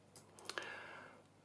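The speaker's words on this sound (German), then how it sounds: "ich klicke jetzt mal auf meinen Kanal." A computer mouse gives a few small, quiet clicks close by in a hushed room, with a short tonal chime trailing after the clicks.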